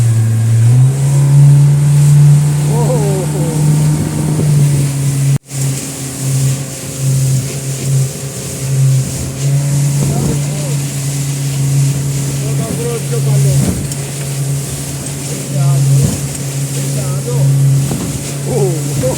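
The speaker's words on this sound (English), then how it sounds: "now we're gonna check the big Suzuki engine" A big Suzuki outboard engine on a fishing boat off Crete is run up for a test, giving a loud, steady low drone that shifts pitch as it revs, with people talking over it.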